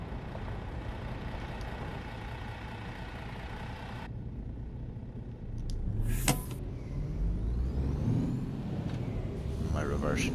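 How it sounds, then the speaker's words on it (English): Truck reversing at a depot in a PS4 driving game, On the Road, with a steady engine drone, a sharp hiss like an air brake near the middle and rising engine noise after it, under a person talking. "And then we'll get our truck reversed up."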